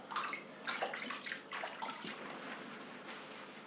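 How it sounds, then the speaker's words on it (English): Water splashes and pours close by in uneven, sloshing bursts, like hair being rinsed over a basin, with no talking. "So this is definitely not the most comfortable way of washing your hair."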